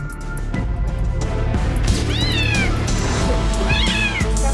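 Kitten stuck inside a washing machine cries loudly, with two long, strained meows standing out over a dense, noisy background of clatter and commotion.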